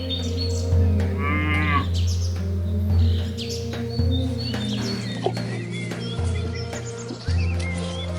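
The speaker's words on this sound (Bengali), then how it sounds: "হাঁটতে হাঁটতে হঠাৎ চোখে পড়লো এই ছোট একটা গরু" A small cow on a farm lets out several loud, drawn-out moos close by, with birds chirping faintly in the background and no talking.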